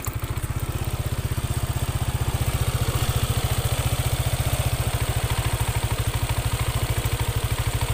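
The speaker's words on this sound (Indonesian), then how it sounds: "Yamaha NMAX ini saya nyalakan, di bagian di bagian CVT itu suaranya bisa dikatakan halus ya." Yamaha NMAX scooter engine idling steadily up close, a smooth, even low putter with a faint mechanical whir from the CVT area over it, continuous and loud with no talking.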